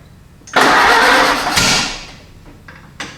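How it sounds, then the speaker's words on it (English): A 1930 Ford AA Doodlebug engine, long left in a barn, cranks with a sudden loud burst of noise. The sound fades over about a second and a half, and a sharp pop follows near the end. "Let's give her a whirl and see what happens. Oop, backfire."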